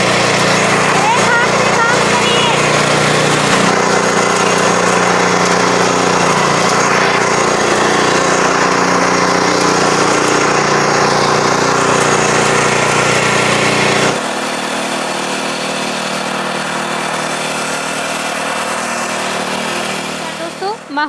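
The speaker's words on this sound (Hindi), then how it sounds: "इतनी भारी भरकम इतनी हैवी बैक रोटरी तो मैंने कहीं नहीं देखी।" A heavy back rotary power tiller, a tractor-like machine at Chhibber Agri Equipment in Kotkapura, Punjab, runs steadily with a loud, continuous droning engine. Someone talks over it throughout, and the engine note drops slightly near the end.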